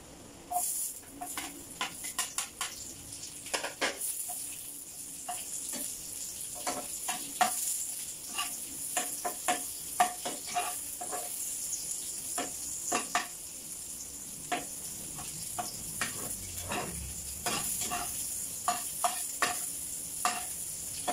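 Onions fry in a pan for kimchi fried rice, giving a steady sizzle broken by frequent sharp clicks and scrapes of stirring. No talk is heard.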